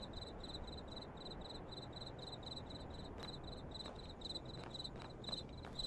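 Crickets chirp in a steady, rapid, evenly pulsed pattern over a soft nighttime ambience in a cemetery setting in the video game Graveyard Shift, with a few faint ticks and rustles and no speech.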